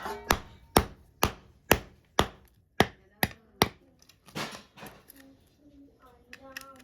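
Oyster shells (kalav from a coastal creek) cracked open with sharp, hard knocks, about nine evenly spaced close strikes, then softer clatter with people talking.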